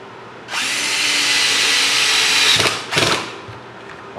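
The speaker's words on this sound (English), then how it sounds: "I set my sheetrock screw." A power drill drives a sheetrock screw through a whitetail deer horn panel, a steady loud whir for about two seconds, then two short bursts as the screw is snugged tight, with no talking.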